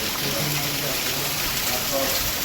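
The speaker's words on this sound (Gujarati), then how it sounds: "આ વરસાદની જરૂર હતી મને" Steady, dense rain pouring down nearby, a continuous broadband wash with faint voices under it.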